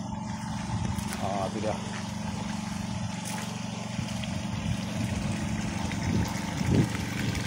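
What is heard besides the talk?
air compressor powering DTH hammer drilling rig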